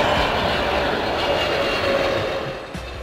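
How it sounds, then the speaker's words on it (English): A cargo jet, a jet-powered freighter built for long-distance hauling, roars in a steady, broad engine rumble that holds level throughout and fades slightly at the end, with no voices. "Jet-powered aircraft designed for transporting cargo over long distances."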